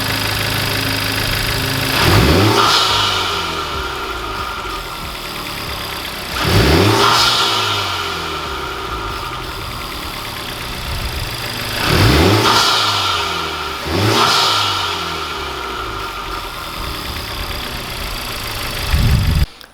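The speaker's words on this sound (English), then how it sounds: "this is it with the car running" A Honda Civic Type R engine with a thermal-coated inlet pipe idles steadily and is revved four times, each rev climbing sharply then falling back to idle, close and loud with no talking.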